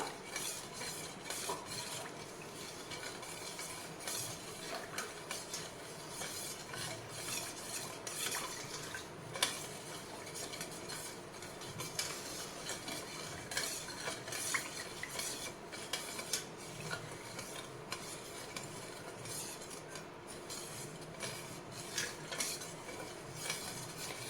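Sugar or jaggery being stirred into the kharvas mixture, a steady run of scraping and clinking against the metal bowl with a light rubbing texture, close and continuous throughout with no talking.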